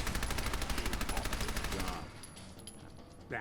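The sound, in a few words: gunfire in the video game Fallout 4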